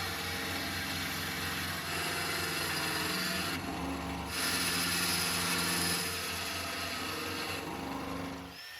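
A power tool cuts a piece of horn into smaller pieces while a horn nock for an English longbow is being made, giving a steady close grinding, rasping whine that runs throughout with slight shifts in pitch and no talk.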